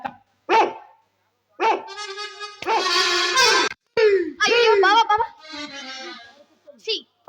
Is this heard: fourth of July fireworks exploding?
no